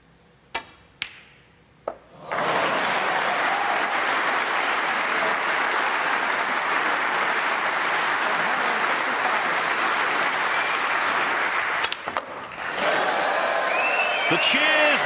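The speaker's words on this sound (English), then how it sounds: "The cheers, the applause, said it all." Audience applause and cheers at a snooker match between Judd Trump and Ali Carter, a few scattered claps then a sustained loud ovation lasting about ten seconds, briefly dipping before swelling again as a commentator begins talking.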